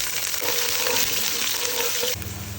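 Mustard seeds, fenugreek and chopped onion frying in hot oil for a fish kuzhambu, a loud close sizzle with stirring that shifts and drops near the end.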